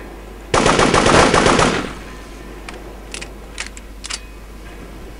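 A rapid, loud burst of gunfire from shotguns and small guns in the video game Devastation lasts over a second, then a few scattered, quieter single shots follow at irregular intervals.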